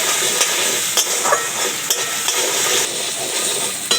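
Tomatoes fry in a pan with a steady hiss and crackle, and a utensil stirs and taps the pan now and then. The sizzle is close and continuous, with no talk.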